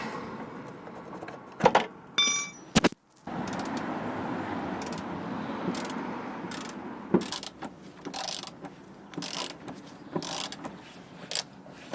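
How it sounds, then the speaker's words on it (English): A ratchet spanner undoes a car rear suspension bolt during a trailing arm bush replacement, with repeated clicking ratchet strokes and metallic clanks up close, broken by short pauses and rustling handling noise. "So I'm going to carry on, get this bolt all the way out."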